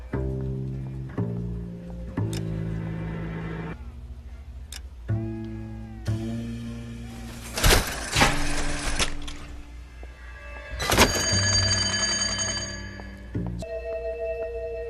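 Slot machine bell win chimes from the LA Noire video game: a run of bright, tonal ringing notes and jingles in quick succession, some bursts louder and brighter than others, with no talk over them.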